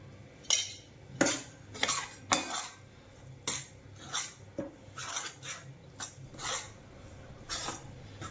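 A utensil scrapes and clinks against a pan as roasted ragi flour is stirred with ghee, giving a string of sharp, irregular scraping strokes close by with quiet gaps between them.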